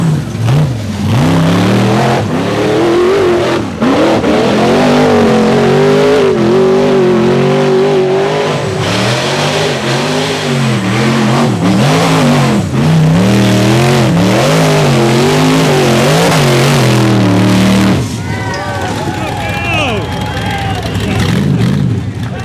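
Rock bouncer off-road vehicles climb Disney Bounty Hill in an SRRS race, their engines revving hard and screaming up and down in pitch while a voice talks over the din.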